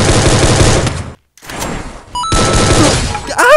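Rapid automatic gunfire bursts from a weapon in a battle royale shooting game, loud and dense, broken by a short silence and a quieter stretch, with a voice briefly heard at the end.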